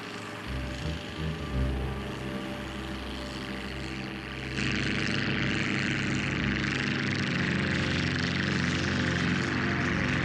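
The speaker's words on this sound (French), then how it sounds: "à midi, 3 avions de chasse américains!" Three American fighter planes fly in a French-language animated cartoon, heard as a loud, continuous propeller engine roar that swells into a fuller, steady drone partway through.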